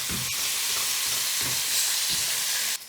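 Ground cinnamon and black pepper sizzling in a hot pan, a steady close frying hiss with faint stirring scrapes, alone without voices.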